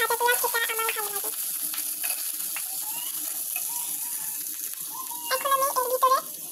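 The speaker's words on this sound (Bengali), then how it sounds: "তারপর মিষ্টি কুমড়ার যে বিচিগুলো ছিল সেগুলোকে আমি এখন হালকা তেলে ভেজে নেব।" Pumpkin seeds fry in a little oil with a soft, steady sizzling hiss; a voice is briefly heard at the start and again near the end.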